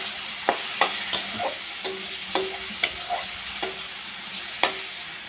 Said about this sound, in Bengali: এর মধ্যে আমি বেগুনটা দিয়ে ভালো করে মশলার সাথে কষিয়ে নেব।